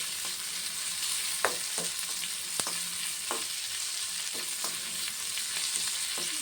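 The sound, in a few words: chutney ingredients sautéing in oil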